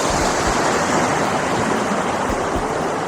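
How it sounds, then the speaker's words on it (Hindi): Steady, loud broadband rush of a waterfall pouring between rocks, continuous and close with no pauses or talk. "वाटर साउंड जो है वो आपको क्लियरली सुनाई दे रहा होगा।"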